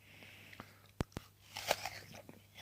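Small red apple bitten into crisply up close, a sharp single crunch followed by a few quieter chewing crunches, faint and intimate against low background hiss.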